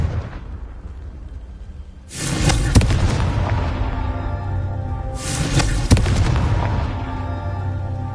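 Two loud explosion spells from the Hogwarts Legacy video game burst in turn, each a sudden broadband blast with a long rumbling decay, over steady game ambience.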